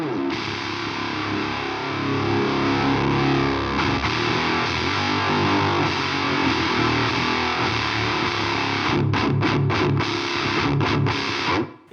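Thick, fuzzy high-gain HM2-style distortion pedal on an electric guitar, run at 9 volts, loud and saturated, with chugging palm-muted bursts and choppy stops toward the end.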